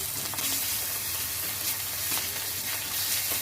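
Onion paste and ginger paste frying in oil in a home kitchen, a loud, even hiss of sizzling with faint stirring movements and a low hum beneath, no voices present.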